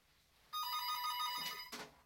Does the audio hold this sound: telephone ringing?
yes